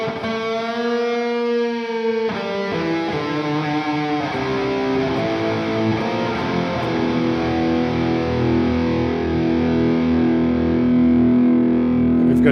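An electric guitar plays through a delay effect in the Overloud TH-U amp simulator app, with a held chord followed by a run of repeating notes that echo and smear together, steady and loud throughout.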